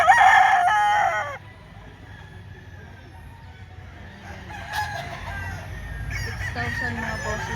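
A rooster crows loudly and close by at a chicken market in Lipa, Batangas. One harsh crow opens the clip, then the bustle of the market continues with faint clucks and voices.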